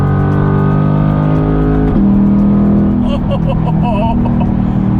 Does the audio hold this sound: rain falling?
no